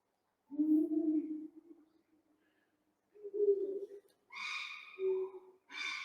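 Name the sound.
eagle owls calling from a cliff, call reverberating off rock wall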